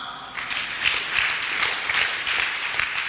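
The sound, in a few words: congregation applauding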